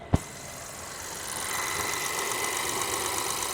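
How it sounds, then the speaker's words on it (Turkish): A 2023 Toyota Corolla 1.5 three-cylinder engine with an unhealthy-sounding run, steady idling hum with a slight knocking texture after a brief click, close and alone. "123 beygirlik 3 silindirli motora sahip 2023 model sadece 34 bin kilometrede olan bir Toyota Corolla'nın motorun dinlediğin çalışma sesinin hiç de sağlıklı bir ses olmadığını fark ettim"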